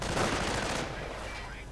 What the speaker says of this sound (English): Lots of munitions, and we are in fact seeing artillery now.